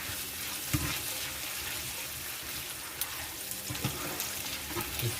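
Tomato puree fries with ginger garlic paste for chicken madras, a steady soft sizzle and hiss with a few stirring knocks against the pan, close and continuous.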